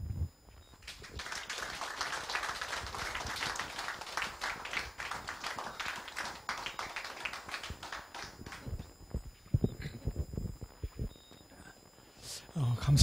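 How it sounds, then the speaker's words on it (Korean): An audience claps to welcome a lecturer at a history forum, a steady patter of many hands lasting several seconds, then thinning into scattered claps. "오늘 강의자 담목 선생님을 박수로 환영해 주십시오."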